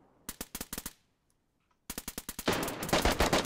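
Gunfire in the video game DayZ: two clusters of rapid, sharp shots, a short rattling burst, then a pause and a louder, denser volley that keeps going to the end.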